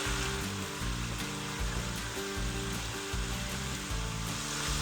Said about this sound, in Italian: soffriggere la salsiccia, metto tutti gli ingredienti con 2 cucchiai di olio